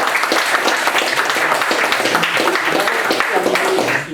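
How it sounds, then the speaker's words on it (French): Applause from an audience at a closing session, steady dense clapping filling the whole stretch at close, even loudness with no pause. "Donc j'aimerais vraiment qu'on applaudisse Roland."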